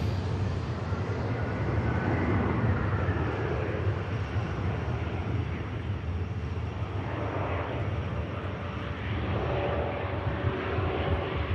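EasyJet airliner landing at Manchester Airport, a steady broad roar of jet engines and rushing air at a moderate distance, continuous without talk.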